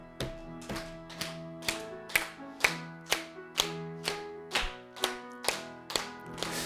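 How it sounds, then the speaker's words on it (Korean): A church congregation at a Christmas service claps in unison along with a hymn, about twelve sharp, evenly spaced claps at a steady tempo over sustained instrumental accompaniment. "힘차게 손뼉 치면서 같이 찬양해봐요"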